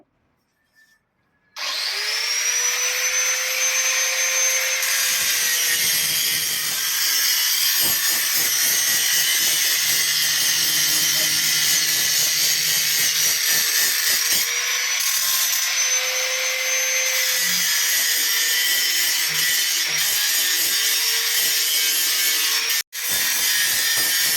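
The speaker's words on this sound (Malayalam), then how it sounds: "ഇനി നമുക്ക് ഇവിടെ പോളിഷിംഗ് വർക്കാണ് നടന്നുകൊണ്ടിരിക്കുന്നത്" A steady, high whining drone of power polishing on a wooden charupadi seat runs almost nonstop and loud up close, with light scraping and rubbing underneath and a brief cut near the end.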